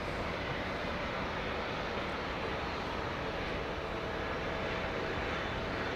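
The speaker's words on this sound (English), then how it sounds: "There was a military aircraft. Yeah, just over to the north of me." A military aircraft passes overhead somewhat to the north, a steady broad engine roar filling the whole stretch without variation or voices.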